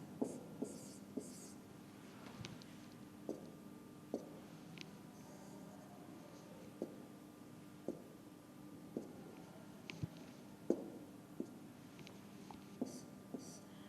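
Pen or pencil writing numbers on paper: soft scratching strokes with small taps, quiet and close, repeating irregularly throughout.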